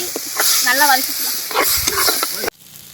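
Village-style country chicken masala stirred and sautéed in a hot pan, with a steady close sizzle and scraping stirs under a person talking, then the frying cuts off abruptly.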